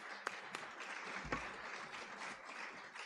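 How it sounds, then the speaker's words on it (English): An audience at a foundation partnership event in New Delhi applauds a team, a moderate, fairly distant wash of clapping with a few sharp individual claps standing out early on. "Can we have a huge round of applause for this team?"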